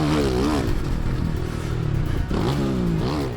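Onboard a Ducati Desmo 450 motocross bike while racing: a loud, continuous engine revs up and down in repeated surges, with clattering chassis noise, close and dominant.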